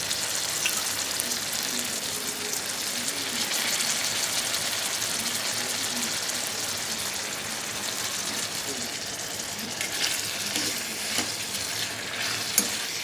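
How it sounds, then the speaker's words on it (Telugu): Tomatoes, onions, green chillies and coriander frying in a pan for a peanut and coriander chutney, giving a steady, dense sizzle throughout with a few faint clinks near the end. "ఆ వేయించుకున్నటువంటి టమోటాలు ఆనియన్స్ పచ్చిమిర్చిలో వేసి దీన్ని దీంతో వాటితో పాటు కొత్తిమీరను కూడా వేసి కొద్దిసేపు మగ్గనివ్వాలండి"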